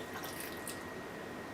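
Non-boiling water pours steadily into a container during a pump repair, a faint continuous trickling and splashing with no voices.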